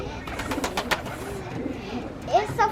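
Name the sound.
birds calling at a nature park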